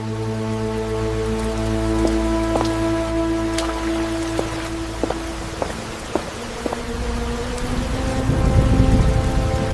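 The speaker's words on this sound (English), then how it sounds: "Rain falls with neon reflections on the wet ground." Rain falling on wet ground in a neon-lit street scene, a steady patter with scattered drop hits and soft hum-like tones beneath, growing a little heavier toward the end.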